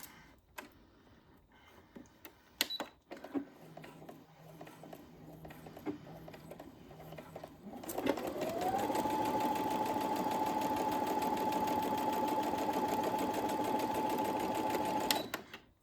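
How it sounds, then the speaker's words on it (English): A sewing machine starts up and runs steadily for several seconds, stitching across the top of a fabric zipper pouch, a close, continuous whirring after some quiet handling sounds. "we're gonna take this back to the sewing machine and we're gonna sew right across the top"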